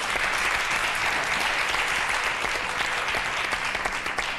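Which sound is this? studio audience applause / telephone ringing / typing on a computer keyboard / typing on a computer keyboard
studio audience applause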